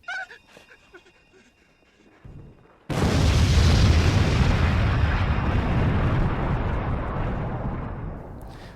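A big added explosion effect erupts suddenly after a short quiet stretch, then a loud, sustained rumbling roar that slowly fades over several seconds.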